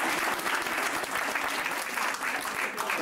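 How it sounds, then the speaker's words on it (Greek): A room of people claps steadily and densely throughout, a warm round of applause at a community association's New Year pita-cutting gathering in 2003. "Χειροκροτήστε."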